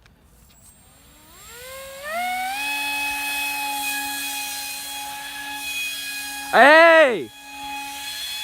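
A homemade ducted-fan mini jet whines as it flies. Its pitch climbs steeply and then settles into a steady high drone, and near the end a brief louder swoop rises and falls as it passes close. A voice shouts once.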